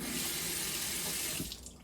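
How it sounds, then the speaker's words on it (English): Water runs steadily from a sink tap beside an Aquatonic AQ 500 water ionizer, then the flow is shut off and the rushing sound cuts away near the end, close and clear with no speech. "So now I'm going to turn the water off."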